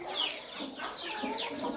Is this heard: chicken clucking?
yes